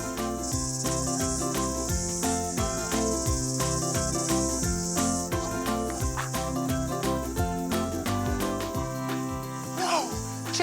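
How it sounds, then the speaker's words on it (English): Cicadas buzzing loudly and continuously outdoors, a dense high shrill drone layered with a rhythmic pulsing chorus that fills the whole stretch without a break. "Those are cicadas."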